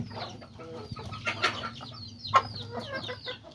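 Chickens cluck and chatter softly while feeding on azolla at a small farm, several birds calling in short overlapping bursts over a steady low background hum, with no speech.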